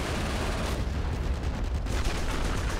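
Anti-air guns fire at aircraft in a Company of Heroes battle, a dense, steady roar of distant gunfire and booms with no clear pauses.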